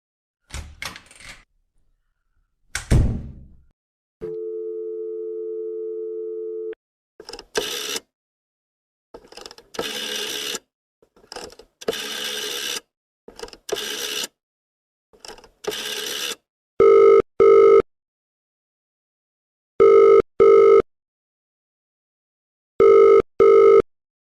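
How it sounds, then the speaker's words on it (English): A phone call being placed: a few handset clatters, a steady dial tone, a burst of rotary-style dialing clicks, then a loud double-trill ring repeating three times at even intervals, with no voices. "Colin makes a phone call."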